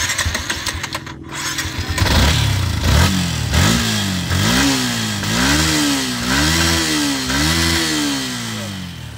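A Yamaha Sniper v2 motorcycle engine, just repaired with a new fuel filter and fuel pump IC, fires up after a sputtering start and revs repeatedly in strong rising-and-falling surges, loud and close with no talk.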